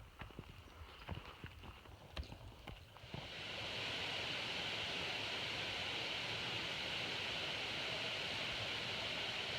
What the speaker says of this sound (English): we had lunch at Little Wilson Falls, which is a beautiful, beautiful waterfall